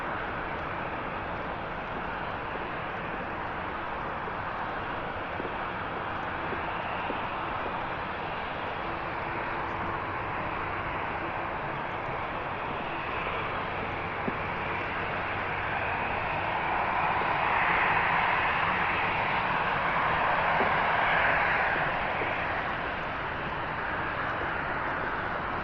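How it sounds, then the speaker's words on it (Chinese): Distant airplane engines roar steadily at Shanghai Hongqiao Airport on an overcast day, a broad continuous rumble that swells slightly louder partway through. "听到远处传来的飞机的发动机的轰鸣声啊，还是非常吵的。"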